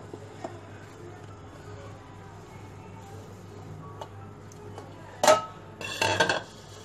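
Rice flour tipped into salted boiling water, with a pot and metal utensils giving a few soft ticks and then two louder clanking, scraping clatters near the end over a quiet hum.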